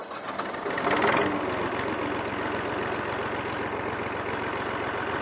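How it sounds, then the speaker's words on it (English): A Massey Ferguson 231 tractor engine runs at a steady idle nearby, a low continuous rumble that swells briefly near the start and then holds even, with no talk. "Tractor needs to go back to work."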